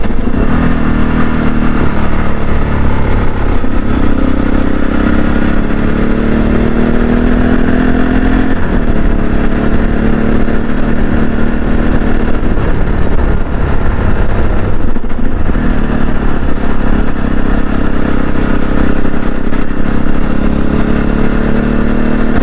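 A CSC RX4 motorcycle runs steadily while being ridden, its mid-pitched engine droning loud and close throughout with rising and falling tones as the throttle changes, plus wind rush and light mechanical clatter.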